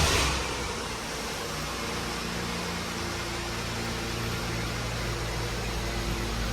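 Inside a VT Commodore, the fuel pump hums constantly, a steady low electrical drone under a broad hiss with no change in level.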